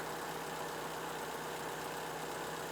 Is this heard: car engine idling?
yes